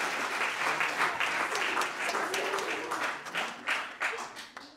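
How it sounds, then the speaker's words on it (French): Steady applause from an audience at a live stage show, dense and continuous for several seconds before thinning toward the end. "on peut l'applaudir."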